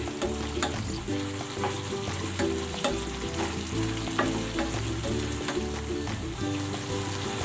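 Paksiw na bangus, milkfish cooked in coconut milk, simmering in a pan, a steady close bubbling and sizzling with a faint crackle and occasional soft clicks, no talk.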